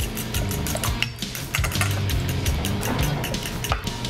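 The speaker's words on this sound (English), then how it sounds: "we're just going to whisk the eggs, combine a little bit of milk," Eggs and a little milk are whisked in a bowl for a pancake-like batter, a quick run of clattering taps and scrapes against the bowl that keeps up steadily throughout.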